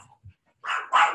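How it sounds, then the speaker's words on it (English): Several dogs bark in two loud, close bursts indoors, with a brief faint low sound before them and no talking. "Sorry about the dogs barking."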